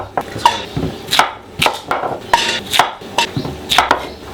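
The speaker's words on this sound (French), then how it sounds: "Coupe en gros morceaux." A knife chops potatoes into large chunks on a board in a home kitchen, with about ten sharp, near cuts at an uneven rhythm and no talk.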